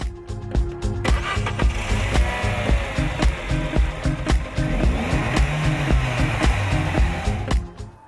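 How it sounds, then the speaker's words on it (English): An Audi A1 car engine growls steadily at moderate loudness, broken by frequent sharp clicks and knocks. "the Audi's engine has a louder growl"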